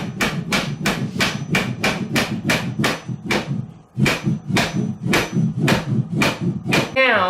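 Repeated hammer taps while mounting a Rubbermaid FastTrack garage storage rail, about a dozen sharp, evenly spaced strikes close by, with a brief pause midway and a short scraping sound at the end.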